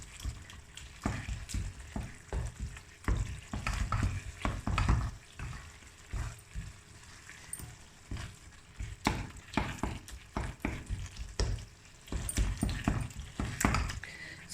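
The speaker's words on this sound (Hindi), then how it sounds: "अब हम इसके अंदर मैश कर देंगे पालक के अंदर।" Cooked turnips being mashed into spinach inside a pot, with a steady run of close, wet squelching presses and soft thumps repeating irregularly throughout, no voices.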